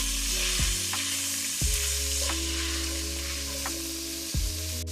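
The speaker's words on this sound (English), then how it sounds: "we're just going to mix everything until it's well combined" A spoon stirs seasonings through stuffed pepper soup in a hot pot, with a steady sizzle of cooking food under a few repeated scraping strokes, close and fairly loud.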